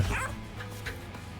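A puppy dog character barks in the video game Monster Train 2, giving a short, close yap at the start and then a fainter follow-up bark alone in the game audio.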